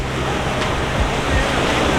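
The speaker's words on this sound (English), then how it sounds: "How the surf just crashes on top of some of these little inlets, islands out there." Pacific surf crashing on small islands and inlets in a bay at Manzanillo, Mexico, a continuous broadband roar of breaking waves with wind buffeting the microphone.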